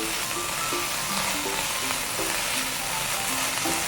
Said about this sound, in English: Mix it well until all combines together